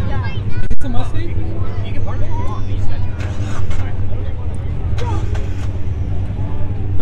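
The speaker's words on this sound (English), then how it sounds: "Bro, are you moving the Miata?" A Mazda Miata is moved at an outdoor car meet by a lake, its engine a steady low rumble beneath loud crowd chatter and nearby voices.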